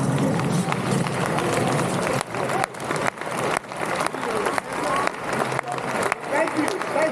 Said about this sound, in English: I want you to stand up right now and start clapping